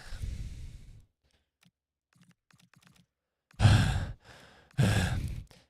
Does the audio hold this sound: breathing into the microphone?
yes